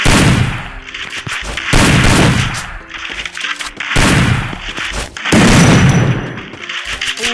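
Shotgun blasts in a battle royale video game boom in loud, repeated bursts spaced about a second apart, each followed by a decaying rumble, with no voices over them.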